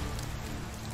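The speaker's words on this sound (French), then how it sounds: "En plus, il pleut." Steady rain falling in the medieval survival game Medieval Dynasty, a continuous even hiss of drops on surfaces with a low rumble beneath, no voices.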